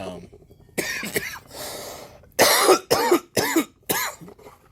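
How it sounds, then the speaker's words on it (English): A person coughs in several sharp, loud bursts, with a breathy stretch early on and four strong coughs clustered near the end, close to the listener. "You start coughing."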